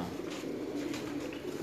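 A pigeon from a breeder's flock in Sialkot coos softly, a few low murmuring calls against a steady background hum, with no voices on top.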